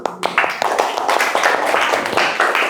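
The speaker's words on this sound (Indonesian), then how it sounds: "Oke, tepuk tangan." A classroom group in an Indonesian lesson bursts into applause, a close, lively patter of many hands clapping at an uneven rhythm for a few seconds.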